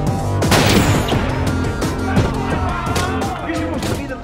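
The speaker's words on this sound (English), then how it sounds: "and we're gonna be shooting some more" Heavy gunfire in an action film trailer about a military raid, dense, loud volleys of shots and booms layered over music and voices, nearly continuous throughout.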